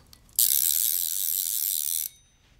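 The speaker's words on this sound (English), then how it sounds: "that sounds just like a click drag reel should" An Orvis Battenkill fly reel's click drag runs as line pulls out: a close, steady, rapid ratcheting buzz that starts abruptly, holds for under two seconds and then stops, with no voices.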